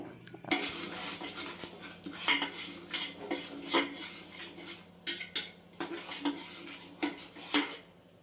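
Mutton sambar masala stirred in a metal pot, the ladle knocking and scraping the sides in a steady series of clinks and clatters with a low sizzle beneath, close and without talking.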